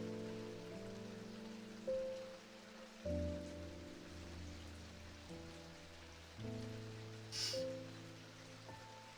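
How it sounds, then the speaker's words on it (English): Rain in the game Strange Antiquities: a soft, steady hiss of falling rain running beneath slow, sustained ambient music chords, with no talking. "Oh, it's raining."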